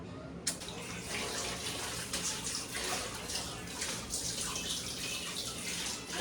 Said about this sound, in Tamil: பாத்திரத்தை கழுவிக்கிறேன்